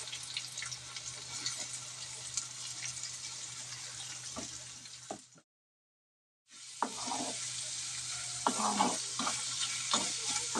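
Finely chopped onions fry in a pan, giving a steady sizzle broken by stirring clatter and scraping, with a brief silent gap partway through before the frying resumes.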